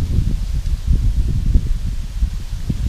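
Strong wind gusts through forest trees at a rainy campsite, a loud, constant low rumble with rustling leaves and heavy microphone buffeting throughout.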